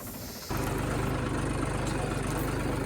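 A tractor pulling a reversible plough through a field runs with a steady low engine drone that kicks in loudly after a brief quieter start, then holds an even rumble.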